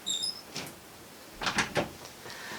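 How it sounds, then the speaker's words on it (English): A door being shut indoors at home, with a couple of squeaky clunks and knocks, fairly close and moderately loud, separated by a short quiet gap. "I've had him close the door so that doesn't annoy you"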